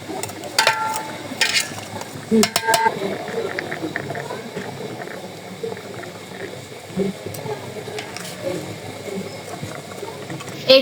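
Sugar melting and starting to bubble in a pan for mango morabba, a soft, steady wash of fine bubbling with scattered faint clinks and a quiet voice now and then.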